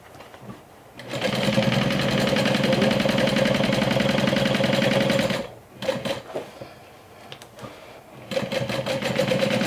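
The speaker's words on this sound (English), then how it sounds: "go slow over there, especially if you're using a domestic sewing machine" A domestic sewing machine runs in steady, fast stitching bursts, close and loud, stopping briefly mid-way with a few short starts before running again.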